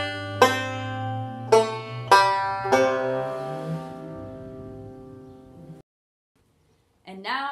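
Banjo phrase with a pinch, a pull-off and a walk down ending on an open string, four plucked attacks ringing out and decaying, then a short silence before another note begins.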